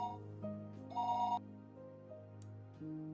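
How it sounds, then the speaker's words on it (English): A telephone rings downstairs in a house in the Higurashi visual novel game, a tonal electronic ringing with steady tones and a brighter burst in the middle, heard alone over a faint music bed. "the phone rang noisily downstairs"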